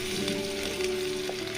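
A steady, close sizzle of meat masala and cumin masala frying in hot oil with dried red chilies, part of a chicken liver fry, continues evenly throughout with no voices.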